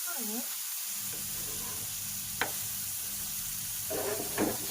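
Large brinjal slices roast on a hot tawa with a soft, steady sizzle, broken by a few sharp scraping clicks as pieces are pressed and turned, while a voice talks intermittently over the cooking.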